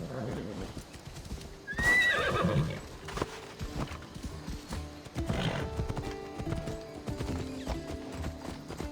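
Horse hooves clip-clop steadily while riding in Assassin's Creed Odyssey, with a neigh early on and characters talking over the rhythmic hoofbeats.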